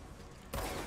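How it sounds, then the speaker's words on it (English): A weapon being reloaded in the game Control: a faint, quiet moment breaks into a short mechanical clack and rattle of parts, heard alone. "I'll reload."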